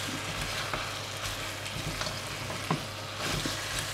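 Chopped vegetables sweat gently in melted butter in a pan over low heat, giving a soft, steady sizzle with a few faint stirring clicks and scrapes, close and fairly quiet, with no talking.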